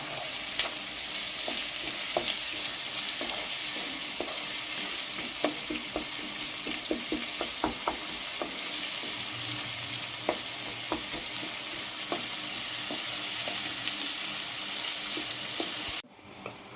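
Onions frying in a pan until golden brown for gongura chicken curry, a steady close sizzle broken by frequent sharp clicks and scrapes of stirring, cutting off abruptly at the end.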